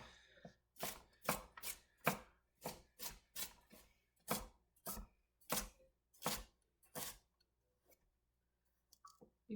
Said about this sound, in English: You can fast forward through the boring shots of me chopping a carrot.